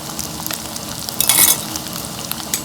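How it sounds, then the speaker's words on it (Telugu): Cauliflower and egg frying in hot oil over a high flame, a steady crackling sizzle with a louder burst of spattering midway, close up and without voices. "ఇవన్నీ వేసుకొని హై ఫ్లేమ్లో పెట్టుకొని వేగనిద్దాం."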